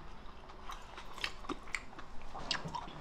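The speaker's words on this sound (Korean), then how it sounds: "고기를 먹어봐야 되겠어." A mouthful of beef shank from kimchi stew is chewed close up, giving soft, moist, rhythmic chewing with small clicks and squelches, faint and without talk.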